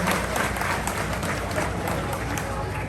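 A crowd applauds a collective after their performance of a song at a commemoration gathering, with steady, dense clapping filling the whole stretch alongside some crowd noise and voices.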